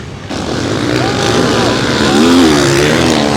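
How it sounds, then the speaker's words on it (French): Loud enduro motorcycle engine at the Enduropale Touquet 2025 race, revving hard close by with a rising, wavering pitch over a steady roar of other racing engines. "La moto qui fait beaucoup de bruit, c'est bizarre."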